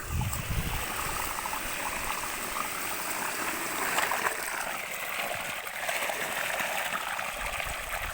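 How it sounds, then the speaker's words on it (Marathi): Water rushes steadily from the outlet of a 3 hp L&T solar farm pump watering a sorghum field, a continuous, even gush, close and fairly loud, with no pauses or voices. "ज्वारीसाठी चालू केलेली मोटर तर बघ बघा आपण कशा प्रकारे पाणी मारतो"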